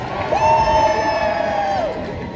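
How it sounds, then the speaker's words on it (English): A pro-Palestinian protest crowd in Leeds cheers and whoops for itself after a march, with one sustained high whoop rising above the brief burst of shouting. "Let's have another cheer for ourselves."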